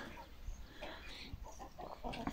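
Chickens cluck in short, scattered bursts at moderate volume over a busy background, with a faint murmur of other noise.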